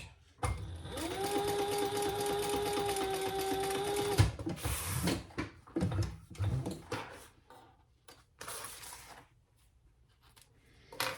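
A sewing machine bastes fabric for a crossbody sling bag, an eighth of an inch from the edge, with a steady close whir running about four seconds, then stopping for soft fabric handling and rustling.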